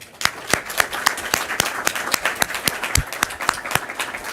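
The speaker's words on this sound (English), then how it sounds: "if we could please give Carmen Candelaria a round of applause" Scattered clapping at a school board meeting, a small group producing distinct, sharp claps in a fairly regular rhythm for about four seconds, close and individually audible rather than a dense roar.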